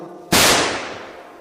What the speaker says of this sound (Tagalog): biglang umalingaw ngaw ang isang malakas na putok